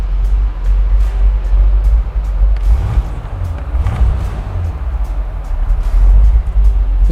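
A fuel-injected 1963 Corvette engine idles nearby with a steady, deep low rumble that swells briefly a couple of times before settling back to an even idle.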